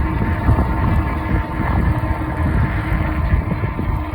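Strong wind buffets the microphone while riding an Ecotric fat tire e-bike, a loud, steady low roar with gusty rumbling that holds throughout, no talking over it.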